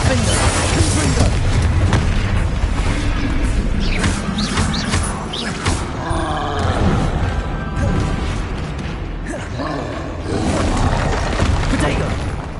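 Repeated booming spell blasts and crashes from Bombarda and Confringo in the Hogwarts Legacy game, dense and loud throughout with shattering debris, while a voice calls out over the combat.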